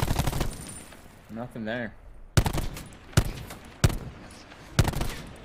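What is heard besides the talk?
gunfire in the video game Call of Duty Black Ops 4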